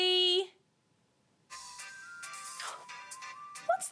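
A short melodic mobile phone ringtone chimes in clear tones, then stops abruptly and leaves a gap of silence before faint background sounds and tonal beeps follow.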